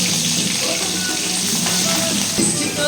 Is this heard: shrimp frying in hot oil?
yes